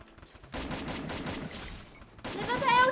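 Rapid bursts of gunfire in Free Fire crackle in quick succession during a bomb-defusal match, stopping briefly before another volley resumes.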